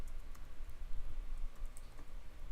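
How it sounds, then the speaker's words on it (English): Fingers tap on a computer keyboard, a quick, steady run of close, crisp key clicks that continues throughout with no talking. "Next, we'll type in our text."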